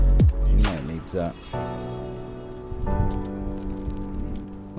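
Juice is poured over BBQ rib meat meant for pulling, giving a continuous wet splashing and dribbling with soft squishy patter, close and steady for several seconds after a louder initial slosh.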